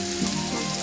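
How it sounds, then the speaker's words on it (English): Pork tenderloin sizzles in a hot skillet, a loud, steady, close hiss of frying with no voices over it. "You want to hear the sizzle. That tells you your pan is ready"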